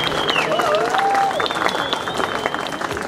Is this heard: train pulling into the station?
no